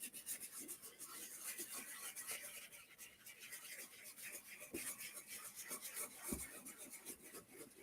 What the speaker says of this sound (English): So I'm just going to lightly sand